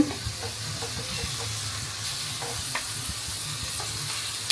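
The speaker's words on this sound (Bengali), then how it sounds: "আর এই যে মশলা দেওয়া হয়ে গেছে, মশলা কষানো হইতেছে।" Spices frying in a pan are stirred, giving a steady sizzle with scattered scraping clicks over a low hum, close and continuous without talk.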